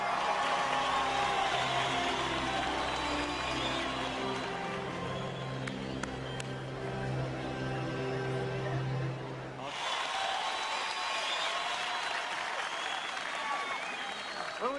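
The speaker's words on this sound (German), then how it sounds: "Und das ist Ihr ganz persönlicher Applaus." A crowd claps and cheers steadily, with a musical drone underneath that cuts off partway while the applause carries on.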